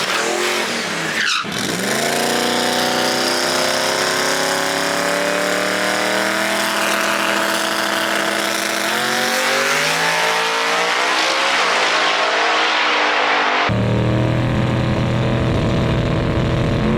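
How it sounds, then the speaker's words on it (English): A loud drag race car making a test pass at Xtreme Raceway Park revs hard and accelerates, its pitch climbing steadily over a sustained roar, then cuts to a different lower drone near the end. "Making test passes, and the car's working."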